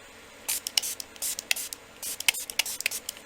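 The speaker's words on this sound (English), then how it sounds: "now I'm going to spray" Several short bursts of hissing spray, uneven and quick, from a nearby spray bottle misting 91% alcohol onto a surface.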